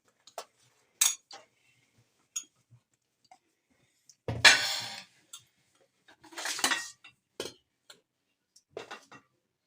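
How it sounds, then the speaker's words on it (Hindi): A ladle clinks against a dish as Chinese-style chicken soup with egg is served out, giving scattered sharp taps and scrapes with quiet gaps between them. "अब मैं इसको डिश आउट कर रही हूँ।"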